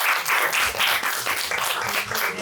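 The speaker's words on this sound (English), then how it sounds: "I want you to give yourself a round of applause" A room full of audience members at a community meetup applauds steadily, with dense, continuous clapping at a fairly close distance and no speech over it.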